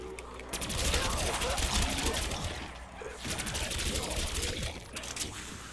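Upgraded gun in Black Ops 3 Zombies on the Ascension map firing rapid, sustained bursts at a zombie horde, loud and continuous with game effects and a brief lull midway.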